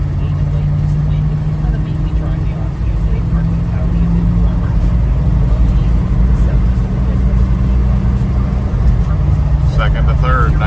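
A 1978 GMC Jimmy being driven and shifted through its gears, a loud, steady engine and road drone heard from inside with a radio voice murmuring underneath.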